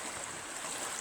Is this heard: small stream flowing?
yes